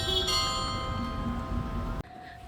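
A church bell in Hakodate, Japan rings with a sustained metallic tone and lingering overtones, then cuts off abruptly into quieter ambience.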